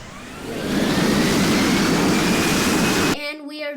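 An Airbus airliner comes in to land, its broad roaring jet noise swelling and holding loud with a faint rising whine, then cutting off abruptly into a short tonal outro sound.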